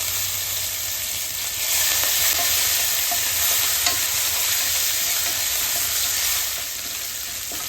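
Curry leaves, green chili and crushed ginger sizzle loudly in a hot pan for a cauliflower curry, a steady unbroken frying hiss with faint stirring scrapes throughout and no voices.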